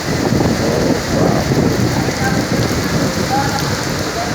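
Heavy rain pours down during a violent Kalbaishakhi storm, a dense, continuous roar of drops pounding surfaces close by, loud and unbroken with no other sounds standing out.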